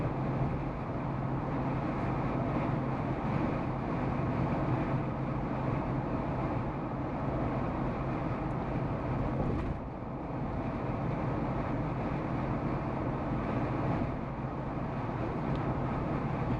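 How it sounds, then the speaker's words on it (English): Steady wind and road noise inside a 2019 Jeep Wrangler Moab four-door with a 3.6L V6, cruising at about 70 mph, a constant broad roar and rumble with no talking. "Now take a listen to the NVH, the wind noise and all that stuff."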